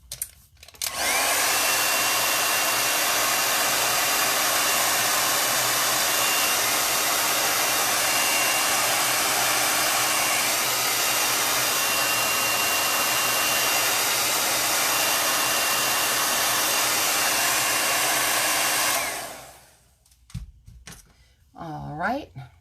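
A hair dryer drying chalk paste on a summer surf-themed craft project, blowing loud and steady at close range for about eighteen seconds before switching off, followed by a few faint handling noises.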